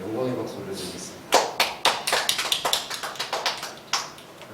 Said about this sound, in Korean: 우리 참된 힘과 능력이 되신 주님께 영광의 박수를 드리겠습니다